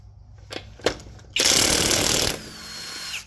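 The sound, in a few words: power tool removing front wheels of a 2014 Ford Fusion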